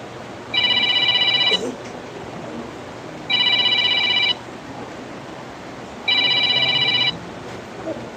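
A mobile phone ringing with three identical electronic ring bursts, each about a second long, evenly spaced and loud over a steady background hiss of a noisy room.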